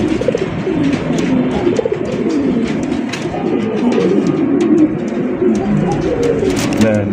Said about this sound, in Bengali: এখানে হচ্ছে চমৎকার একজন ইন্ডিয়ান মুম্বাই কবুতর, লাল টুকটুকে একজন ইন্ডিয়ান মুম্বাই কবুতর